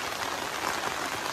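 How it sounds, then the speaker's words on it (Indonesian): Rain falling steadily on a campsite with a tent, a dense, even patter and hiss that continues without pause. "hari ini hujan datang"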